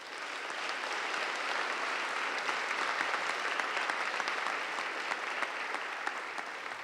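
Steady, sustained applause from a graduation audience at a 2013 Utica Academy for International Studies ceremony, dense and even throughout, with no talking over it.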